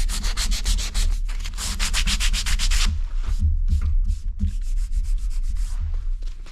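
Sandpaper is rubbed by hand along an Osage orange bow stave, giving loud, close, rhythmic scratching strokes that come in quick repeated passes followed by slower, more irregular rubbing.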